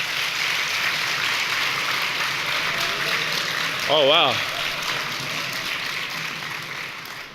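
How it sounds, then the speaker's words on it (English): Audience applauding with hands and stomping feet at a brain education symposium, a steady broad wash of clapping and thumping while a voice exclaims briefly over it. "I like the applauding with your feet, too."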